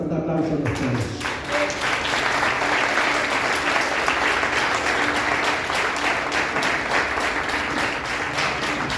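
A church congregation applauds the parents with loud, steady clapping that runs the whole nine seconds, following a brief voice at the very start.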